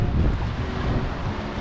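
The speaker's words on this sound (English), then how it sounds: "You can see the wind still ripping around, like it's proper windy." Strong wind buffets a microphone aboard a boat at anchor in a sheltered anchorage at Te Anau, New Zealand, a steady low roaring rush with no one speaking.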